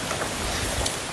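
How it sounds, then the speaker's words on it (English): Heavy rain pours down during a river boat journey, a dense, loud, steady hiss of rainfall on water and surfaces with no voices. "It is at the moment raining heavily"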